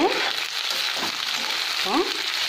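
Okra pieces tumbling into hot oil for a South Indian vendaikkai fry, giving a loud continuous sizzle and crackle with a few scraping stirs along the way and no talking.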